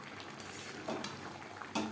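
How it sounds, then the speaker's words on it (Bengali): Frying lote fish and tomato being stirred in a pan, with soft scraping and clinks of the utensil over a low sizzle, including a sharper scrape toward the end. "অবশ্যই নাড়াচাড়া করে দেবেন।"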